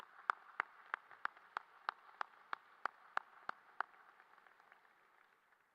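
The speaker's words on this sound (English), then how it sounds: "Nice round of applause for our school board." Single sharp claps at a steady rhythm, about a dozen over four seconds, fairly faint and with no talk, fading to quiet, offered as applause for the school board at a high school graduation ceremony.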